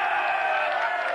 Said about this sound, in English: And the crowd roars, Ron.